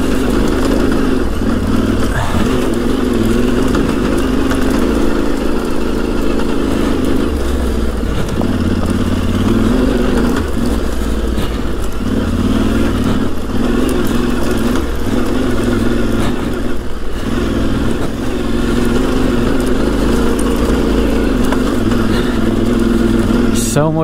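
A Yamaha Tenere 700 motorcycle spins its rear wheel on rain-soaked, low-grip ground, the engine revving in a loud, continuous, fluctuating drone with clattering under it for the whole stretch.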